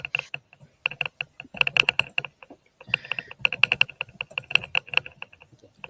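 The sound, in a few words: typing on a computer keyboard, clicking picked up by mic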